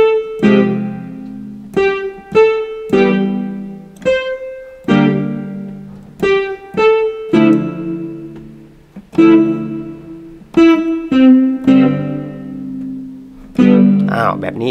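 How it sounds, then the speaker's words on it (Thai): A WK-310 88-key digital piano set to a guitar voice with chorus and reverb added plays a loud run of plucked notes and chords, each ringing out with a spacious, shimmering tail and no talking over it. "ใส่คอรัสด้วยใส่รีเวิร์บด้วยนะครับ"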